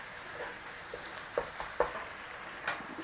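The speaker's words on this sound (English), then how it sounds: "and start to cook your meat" Minced meat frying in a pan for a Cumberland pie, a soft continuous sizzle with a few scraping stirs and small knocks, close and fairly quiet, with no talking.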